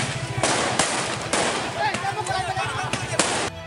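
Firecrackers going off during a street brawl between rival resident groups in Makassar, with stones, arrows, homemade guns and molotov bombs also in use. Several sharp, loud bursts crack out irregularly over a steady rumbling din.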